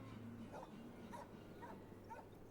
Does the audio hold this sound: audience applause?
no